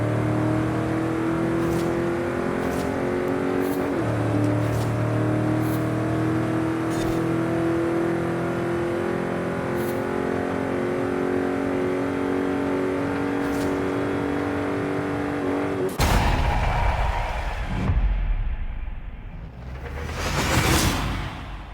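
A 1970 Chevrolet Chevelle in Forza Horizon 5, built to 1000 horsepower for drag racing, screams through sustained high revs with quick gear-shift dips, then ends in a loud burst and a whooshing rush.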